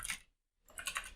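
Quick keystrokes clatter on a computer keyboard in two short bursts separated by a brief pause, close and fairly quiet with no voices.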